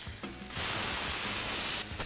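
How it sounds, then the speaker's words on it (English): A burger sears on a grill after being flipped, giving off a loud, steady hiss of sizzling fat. The sizzle swells after a short quieter stretch of clatter and keeps going to the end. "I'm gonna go and flip this burger"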